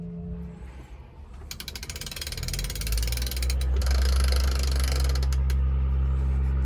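A sailboat winch on a CT41 ketch at sea ratchets with rapid, close mechanical clicking that builds into a loud, steady grinding whir, with creaks and low rumble beneath.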